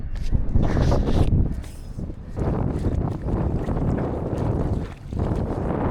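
Strong gusting wind roars across open river water during paddle boarding, a dense, steady buffeting rush broken by brief lulls, loud and close, with no voices.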